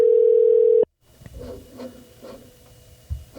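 A phone call tone on a speaker: a steady continuous tone for under a second, then quieter ringing pulses with faint background noise.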